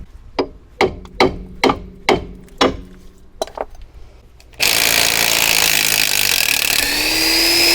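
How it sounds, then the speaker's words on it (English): Hammer blows smashing out a ball joint during front right suspension removal on a car: about eight sharp metallic strikes in steady rhythm, close and loud, followed by a sudden burst of loud continuous broadband noise. "I'm going to get my hammer and smash that out"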